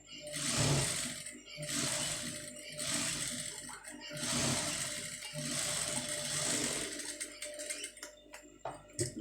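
A sewing machine stitches piping onto a sleeve, running in repeated bursts of fast mechanical rattling with brief pauses between them, close and moderately loud, ending in a few scattered clicks.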